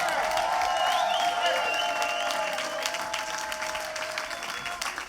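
Crowd applause with cheering for hip hop pioneer Kool Herc at the American Beatbox awards, a loud sustained wash of clapping and whoops with shouted voices above it, slowly tapering toward the end.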